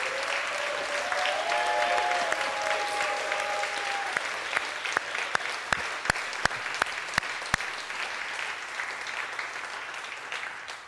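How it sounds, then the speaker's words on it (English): Church congregation at a Sunday celebration service clapping steadily and loudly, a sustained wash of applause with a few sharper individual claps standing out, while a faint tone sounds near the start. "So please clap loudly to honor his presence so that he can hear you."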